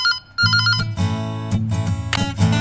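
A mobile phone ringtone plays loudly and close, a bright electronic melody with repeating tones that stops and restarts in short bursts.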